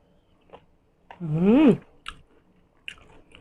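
Someone chews a crunchy Thai beef and liver dish, with a loud crunching bite in the middle and softer, scattered chewing clicks before and after. The sounds are close and no voices are heard.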